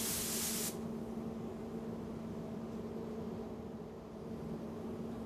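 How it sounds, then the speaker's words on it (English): A spray gun lays etch primer onto bare metal in a spray booth: a loud, dense hissing burst lasting under a second, then a steady low mechanical hum carries on alone. "etch primer is applied, protecting the bare metal surfaces from corrosion"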